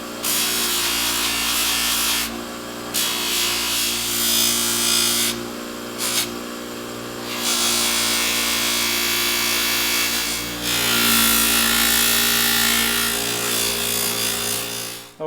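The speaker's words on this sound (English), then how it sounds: "I'm going to polish these parts up using a firm cotton buffing wheel" Metal parts from a 1960s Unimet lantern and stove set are pressed against a firm cotton buffing wheel with white compound, giving a loud, continuous motor whine and rasping friction that briefly dips as parts are repositioned.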